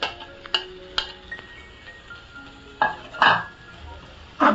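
Radish greens being stir-fried with onions in a pan, with a spatula scraping and clinking against the metal in scattered bursts over a soft sizzle, up close.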